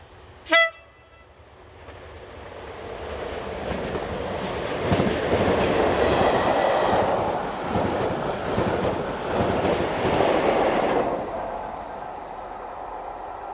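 Diesel locomotives 37667 leading and 47712 at the rear haul an empty stock train through Kirkby Stephen, opening with a short horn blast before a loud, steady rumble and clatter of wagons rolling past, fading near the end.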